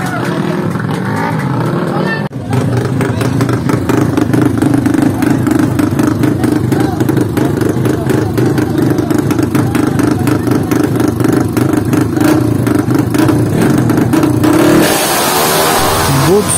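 Yamaha Aerox and Nmax scooters rev hard together at a drag race start in Mindanao, a loud sustained engine roar lasting most of the run, with a commentator's voice over it and crowd noise rising near the end.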